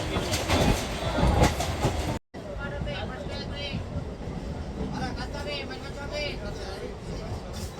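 Local commuter train running from Sealdah to Canning, a steady rumble of rail carriage noise with rattling clicks throughout, a brief dropout near the start, and people talking over it.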